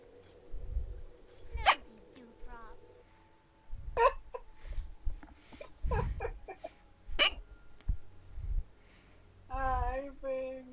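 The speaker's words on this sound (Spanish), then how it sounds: "No sé por qué mierda me volvió el hipo." A person hiccups repeatedly at irregular intervals, with sharp, close bursts. Other voices talk and laugh around them.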